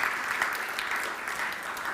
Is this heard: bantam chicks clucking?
no